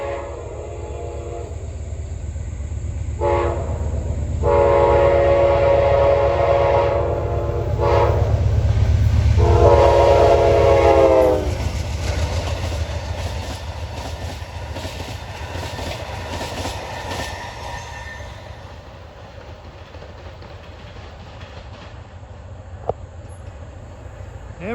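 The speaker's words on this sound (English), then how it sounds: "We got a westbound at 313. Amtrak Pennsylvanian." Amtrak Pennsylvanian westbound passenger train, the only passenger service on the Norfolk Southern Pittsburgh Line, sounding several loud horn blasts as it approaches in countryside, then rumbling past with wheel clatter that fades away.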